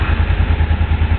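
Motorcycle engine idling low without choke, a close, loud, steady low thumping rumble with a fast even pulse and no talk.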